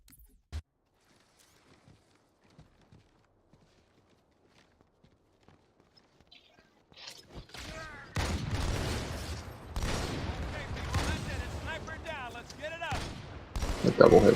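Gunfire from a shooter video game erupts after a long quiet stretch of faint scattered clicks and steps, bursts of shots building loud and dense toward the end.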